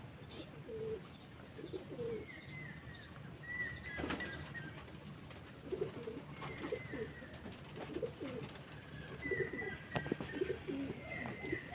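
Pigeons circling and cooing around a house, with soft low coos repeating through the clip, light chirps and occasional wing flaps against a faint outdoor background.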